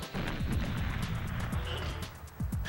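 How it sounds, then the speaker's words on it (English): Repeated booming explosions and gunfire bursts from the GoldenEye 007 video game, several blasts in quick succession over a dense, continuous roar of game noise, loud and close. "with the inevitable explosions."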